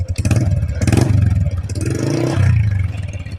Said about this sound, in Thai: ดังสนั่นเลยนะครับเสียงท่อ